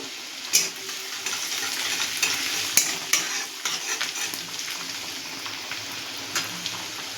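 Grated ginger and garlic frying in hot oil while being stirred: a continuous close sizzle broken by repeated spoon scrapes and light clinks against the pan.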